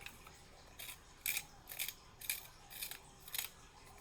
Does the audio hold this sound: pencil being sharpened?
yes